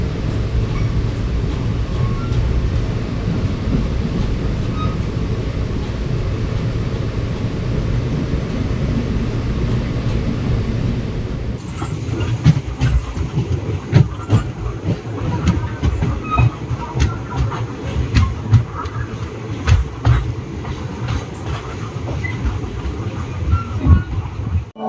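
Hyderabad Superfast Express running on a single-line section, a steady loud rumble of wheels and carriage noise throughout, turning rougher with sharp clickety-clack rail joint beats in the second half.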